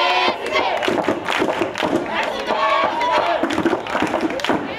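A crowd of spectators at a school sports match in Duque de Caxias cheers and shouts continuously, loud and dense, with some clapping and thumps mixed in.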